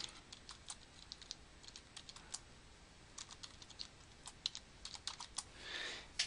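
Fingers tap out a quick, irregular run of soft clicks on a computer keyboard, faint and close, with no voices.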